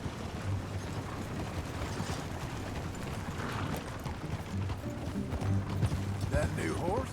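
Horse hoofbeats in Red Dead Redemption 2, a steady clip-clop of a ridden horse at a trot alongside ranch ambience, with voices talking over the rhythmic hooves.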